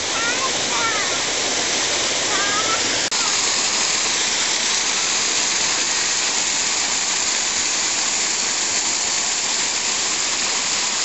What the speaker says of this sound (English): There's nothing like the sound of running water and the waterfalls.